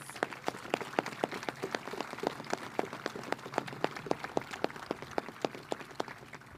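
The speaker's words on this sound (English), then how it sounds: "Please give them another round of applause." An audience at the commissioning ceremony of the attack submarine USS Oregon claps for the crew, with scattered hand claps sounding steady but faint and distant across the gathering.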